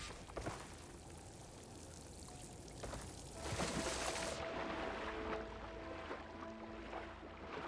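Steady pouring and splashing water in the video game Horizon Forbidden West, near and continuous, with a faint tonal hum running under it and no speech.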